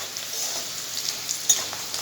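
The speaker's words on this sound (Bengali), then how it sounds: "এটা হালকা ভাজা করে কচুর শাকটা এর মধ্যে দিয়ে দেবো।" Taro leaves frying with peanuts and chana dal in a pan, a soft, steady sizzle with faint crackles and one brief stirring clink.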